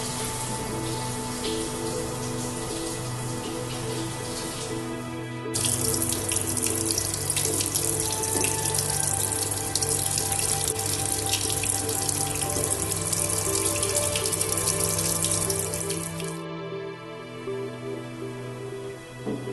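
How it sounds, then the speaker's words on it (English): Waste water being siphoned from a seawater egg incubation tank, a steady running, trickling water flow that grows louder partway through and then eases, with no voices. "Siphon out any waste from the centre of the tank."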